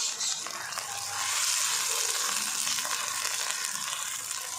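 Garlic ginger paste hitting a pan of golden browned onions for Lahori style red lentil dal, a loud close sizzle that swells after the first second and hisses on steadily.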